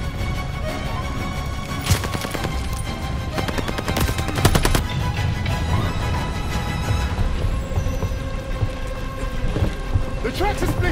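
Call of Duty: Vanguard gunfire plays out in a loud in-game fight: rapid machine-gun bursts and sharp single shots over a constant rumble, with game voices shouting at times.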